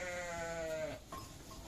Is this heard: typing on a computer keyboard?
no